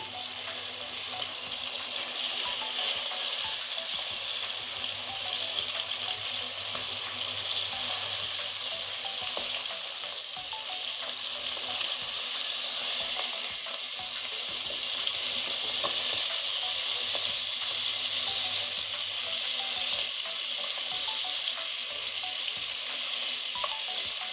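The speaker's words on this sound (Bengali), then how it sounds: "এখন আমি এই মাছগুলো উল্টিয়ে দিচ্ছি" Catla fish pieces frying in hot oil, turned over partway through, making a loud, steady, dense sizzle that holds unbroken from start to finish with no voices.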